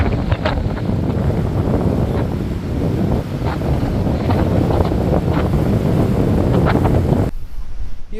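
Strong wind near coastal windmills in Ilocos, Philippines, roars and buffets against the microphone continuously, loud and close, with a faint wash like surf underneath.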